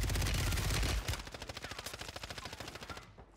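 Rapid SMG bursts in Call of Duty on Rebirth Island: a loud opening blast, then a fast, evenly spaced string of shots that fades slightly toward the end, with no talk over it.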